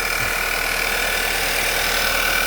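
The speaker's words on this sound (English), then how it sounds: "So the engine runs great." A 2010 Volkswagen Jetta Wolfsburg engine idles steadily, a close, continuous mid-pitched hum with a faint ticking pulse and no voices.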